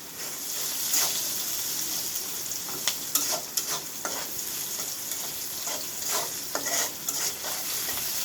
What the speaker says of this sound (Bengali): লবণ দিলাম, দিয়ে একটু নেড়ে ছেড়ে দিলাম। আবার একটু নেড়ে ছেড়ে দেবো।